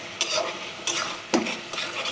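A spoon stirs jackfruit seed curry in a frying pan, giving a few scraping strokes over a soft steady sizzle, close and moderately loud, without talk.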